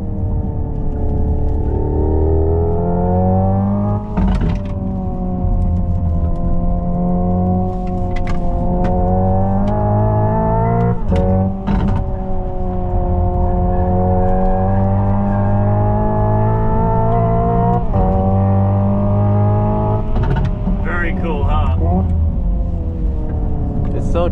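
A Hyundai IONIQ 5 N, a 650 hp electric car, is driven hard and emits a loud, continuous synthetic engine drone that climbs in pitch, then drops abruptly at several simulated gear changes, with occasional bumps and clunks.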